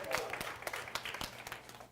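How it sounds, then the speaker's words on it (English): Scattered clapping from a small workshop audience, a handful of distinct claps at an uneven rhythm, fairly quiet and fading toward the end. "Let's give this group a round of applause."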